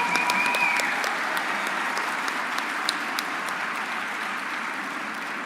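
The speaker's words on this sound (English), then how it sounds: "So right now you can applaud." Steady, dense applause from a leadership debate audience in a hall, loud and continuous without pause, with scattered individual claps standing out near the start.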